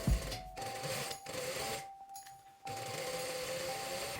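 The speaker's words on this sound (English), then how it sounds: "Pin and stitch." A sewing machine stitches a folded 2 cm hem on a vintage-style frilled dress, a steady close mechanical whir with a few brief pauses between runs, fairly quiet.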